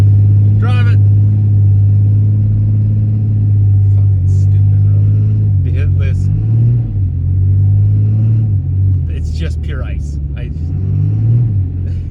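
A car crawling along an unplowed snowy road, its engine rumbling steadily near and loud while the revs rise and dip as the wheels spin, with someone talking over it.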